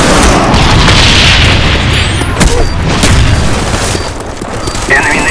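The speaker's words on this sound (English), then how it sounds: "Enemy napalm strike incoming." Napalm strike explosions in a Call of Duty match, a loud continuous rumble of booming blasts and gunfire that fades slightly toward the end, with a brief game announcer tone at the close.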